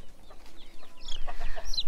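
A pet chicken named Chocolate on a farm gives a few short, soft clucks and a brief higher squawk near the end, close by and quiet, alone without talk.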